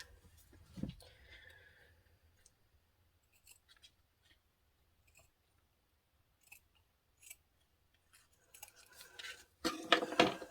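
Scissors cut through a paper scrap in a quiet room, with a few faint, sparse snips and rustles before a sharper burst of close cutting at the end.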